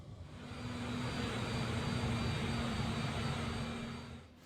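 Boeing 787-10 jet engines roar steadily during the climb in Microsoft Flight Simulator, a broad, loud, sustained rumble that swells in, holds evenly with a faint steady tone, then fades at the end.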